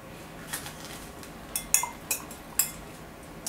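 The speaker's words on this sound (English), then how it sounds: "Actually, I'm going to use a spoon." A small espresso spoon clinks against a cup in a handful of light, separate taps with pauses between them, faint and close in an otherwise quiet room.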